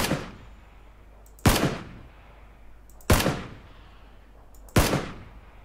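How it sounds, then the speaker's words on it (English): Three evenly spaced single gunshots in the PUBG video game, each a sharp loud crack with a decaying tail, with quiet gaps between them and no talking. "people have probably heard those shots"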